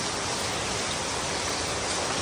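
Rain falls outdoors as a steady, dense, close hiss. It continues without a break and no voices are heard.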